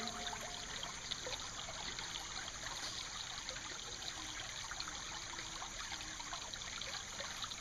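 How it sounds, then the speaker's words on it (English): Water washing over gravel in a gold pan during prospecting, a steady close trickling and sloshing wash that runs on without pause, with no talking. "We'll shake that down, settle it into the groove, try a little wash."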